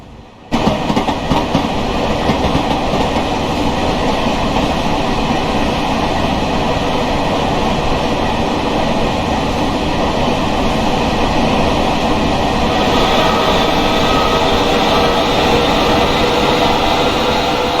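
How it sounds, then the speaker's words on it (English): Long Island Rail Road train running in the video game Train Sim World 2, a loud continuous rumble of wheels and clickety-clack on rails with engine drone, steady throughout and without voices. "TrainSim World allows you to ride and drive trains from a selection of internal and external camera angles."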